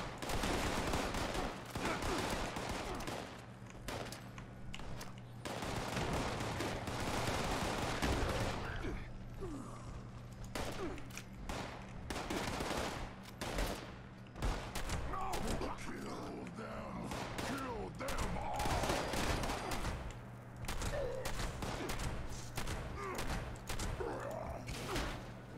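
Gunfire from the video game Fallout 76, repeated shots and bursts scattered through a busy, continuous game soundscape with steady background hum, with a player's voice talking over it.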